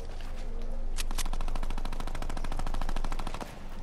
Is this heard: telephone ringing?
no